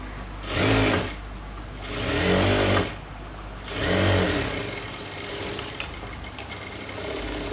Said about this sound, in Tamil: லைனிங் கிளாத்தை மட்டும் ஸ்டிச் பண்ண போகிறேன்